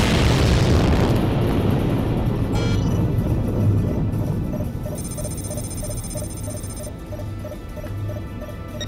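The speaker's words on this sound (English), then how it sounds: "Firing release bolt." A sci-fi spacecraft release bolt fires with a deep, loud boom that rolls into a long low rumble, followed by steady mechanical ticking and a faint repeating electronic tone as the rumble fades.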